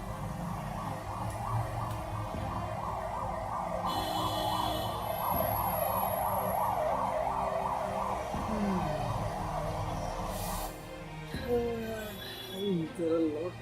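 Ambulance siren wailing in a rapid repeating cycle in Fate Grand Order, moderately loud and steady for about ten seconds before cutting off, with voices speaking over and after it.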